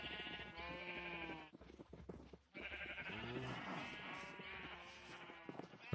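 Minecraft sheep bleating repeatedly in a pen with cows, several drawn-out tonal bleats overlapping with clucking chickens, fairly close and steady with a brief pause midway.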